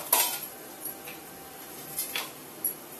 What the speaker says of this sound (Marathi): आता आपण झाकण ठेवूया त्याच्यावर। हे झाकण ठेवले